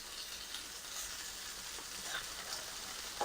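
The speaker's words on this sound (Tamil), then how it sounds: "இந்த ஆனியனும் கேப்சிகமும் கொஞ்சம் குக் ஆகட்டும்" Onion and capsicum fry in a pan with a steady, broad sizzle that holds even throughout, rising briefly near the end.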